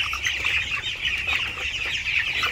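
A flock of 45-day-old raised chickens clucks and chatters continuously at close range, with many overlapping calls forming a busy, restless murmur.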